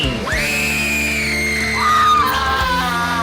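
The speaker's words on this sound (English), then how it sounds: "The night began with a horrifying scream." A horrifying scream sound effect: one long loud shrill cry that holds high, bends downward midway, then breaks off into a second shorter wail over a sustained low tone.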